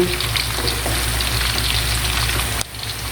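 Pork ribs fry in a pan of oil with a loud, dense, crackling sizzle that holds steady and then drops suddenly just before the end, with no talking.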